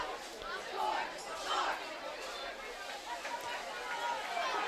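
High school football crowd at Shelton at Washougal reacting to a penalty call, a swelling murmur of voices and scattered shouts rising and falling in the stands, with background chatter throughout.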